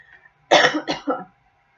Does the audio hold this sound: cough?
yes